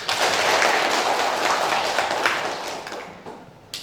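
A class of students applauds a classmate named Devina, a dense burst of clapping that stays steady for several seconds and then thins out and fades near the end.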